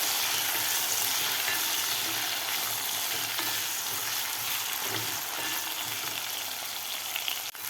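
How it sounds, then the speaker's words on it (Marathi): Thick potato pieces fry in ghee with whole spices, a constant loud sizzle close up with faint stirring underneath, no voices. "बटाटासुद्धा आपल्याला दोन ते तीन मिनिट परतून घ्यायचं आहे तुपामध्ये"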